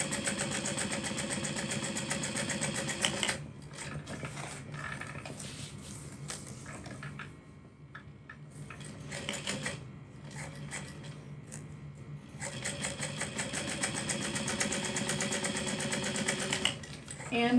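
A sewing machine without an automatic thread cutter chain-stitches pieces one after another, its fast, steady whirring running in long bursts with a short quieter stretch between them.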